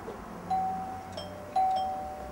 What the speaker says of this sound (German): Komm, gehen wir mal klingeln.